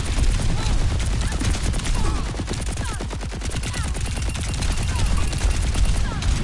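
Mercy's pistol fires steadily in Overwatch 2, a dense run of rapid shots over busy game noise, with a voice talking over the shooting.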